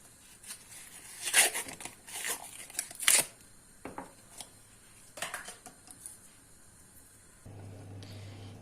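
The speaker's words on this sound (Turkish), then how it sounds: "Şu anda bu bardakları makasla keseceğim." Scissors cut through plastic cups holding frozen bone broth, with close, sharp snipping and crackling bursts and rustling between cuts, ending in a steady low hum.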